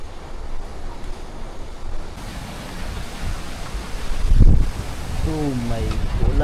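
Strong wind and rain lash an island during an overnight storm, a steady broadband rush with gusts swelling and a heavy buffet near the end, and a voice speaking briefly over it.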